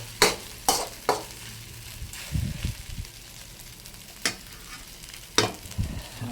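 Garlic fried rice (sinangag) being stirred and fried in a pan, with a few sharp scraping stir strokes over a steady low sizzle and brief louder bursts of frying, close by and without talk.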